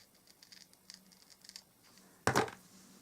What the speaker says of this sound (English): If you cut a sharp angle on your ribbon